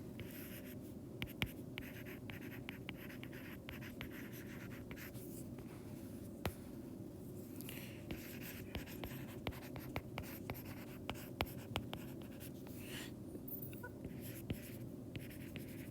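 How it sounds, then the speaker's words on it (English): Marker writing on a board during a physics lesson, faint scratchy strokes and sharp taps coming in irregular bursts over a quiet room hum, with no talking. "I got some room over here to write this down"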